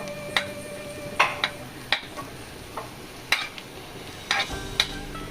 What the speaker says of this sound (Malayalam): നല്ലപോലെ വഴറ്റി കൊടുക്കുക